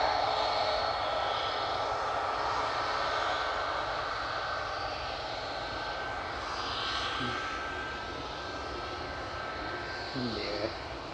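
A TUI Boeing 737 MAX 8 jet airliner on a flight to Tenerife South drones steadily at Manchester Airport, a moderate, continuous engine roar that eases slightly toward the end, with no talking over it.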